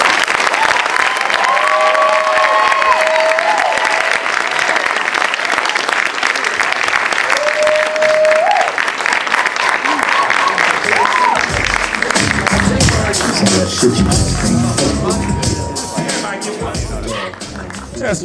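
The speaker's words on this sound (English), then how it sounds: "Everybody give him one more big round of applause, everybody." A large crowd at a spoken-word and music showcase applauds loudly and steadily, with whoops and shouts of cheering mixed in over a dense wash of clapping. Toward the end the applause thins out and a voice speaks.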